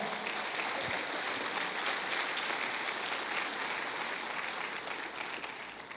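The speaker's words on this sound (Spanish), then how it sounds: "Dale un aplauso al Señor." A church congregation claps during a sermon, a steady, fairly soft roomful of applause that tapers off slightly at the end.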